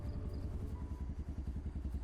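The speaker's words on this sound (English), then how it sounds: "This roaring engine." Roaring vehicle engine in Project Zomboid, a steady loud low rumble with a rapid rhythmic chug running throughout, alone.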